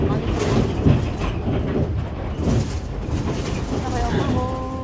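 An elevated train rumbles and clatters steadily past the platform near the Forum shopping centre in Mexico, a continuous loud rolling noise with people talking over it.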